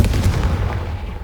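A Confringo fire spell blast in the video game Hogwarts Legacy: a single loud, booming explosive burst with a deep rumbling body that fades slightly over about a second.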